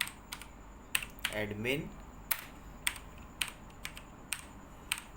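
Keystrokes clatter on a computer keyboard in short bursts and single taps, coming through spaced clicks while someone speaks briefly partway through.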